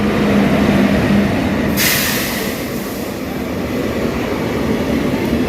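The Ernad Express rumbles past on the line between Kanhangad and Mangaluru, a loud continuous clatter of wheels and carriages, with a brief hiss of air or brakes cutting in partway through.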